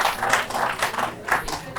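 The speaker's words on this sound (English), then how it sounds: "I want you to give us a round of applause." Scattered clapping from a small group at a panel session, uneven bursts of hand claps close by, brief and somewhat sparse.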